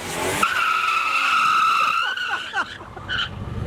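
A Nissan R32 GTR with an RB26DET engine is revved hard, a loud, close, sustained high-pitched wail that drops away into fluttering chirps as the throttle closes, with voices in the background.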